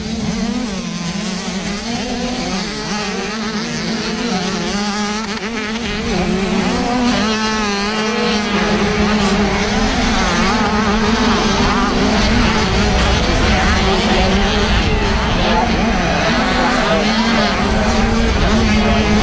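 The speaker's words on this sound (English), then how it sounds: "Freddie Gardner just starting to close the gap ever so slightly there on Jamie Keith for the first small wheel 85 moto of the day" Small-wheel 85cc motocross bikes race at a British Motocross Championship round at Whitby, a continuous loud buzzing, revving engine drone filling the whole stretch with shifting pitch as riders pass, under an announcer's commentary.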